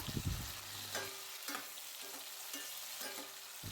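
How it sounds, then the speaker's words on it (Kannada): Tomato and green chilies frying in a pan for paneer gravy, a steady close sizzle with a few scraping stirs and a low rumble at the start, no voices. "ಟೊಮೆಟೊ ಮತ್ತು ಹಸಿಮೆಣಸಿನ್ಕಾಯನ್ನು ಹಾಕಿ ಒಮ್ಮೆ ಚೆನ್ನಾಗಿ ಫ್ರೈ ಮಾಡಿಕೊಳ್ಬೇಕು"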